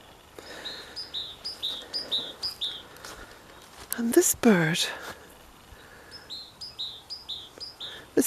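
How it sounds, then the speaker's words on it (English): A bird sings a repeated series of bright, descending chirps outdoors in Ireland, pausing while someone speaks briefly nearby, then resuming its rhythmic song. "particular bird has followed me around all day, singing that beautiful song."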